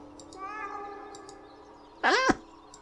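A cat in the video game Kentucky Route Zero gives two meows, a soft drawn-out one early and a louder, sharper one near the end, with a steady low hum underneath.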